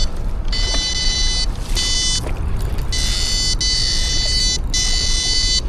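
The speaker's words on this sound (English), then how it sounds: "I'm gonna turn off the fire alarm." An alarm beeps in loud, repeated high-pitched bursts over constant rushing water and engine noise on a river fishing trip.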